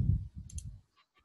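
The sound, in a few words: computer mouse click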